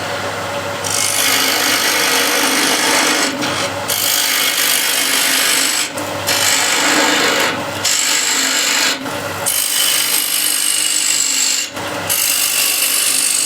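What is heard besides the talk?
square end scraper hollowing out wood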